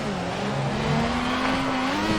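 A Formula 1 race car in the F1 2014 video game at Melbourne runs wide into the gravel, its engine holding a steady, high droning whine throughout with no talking.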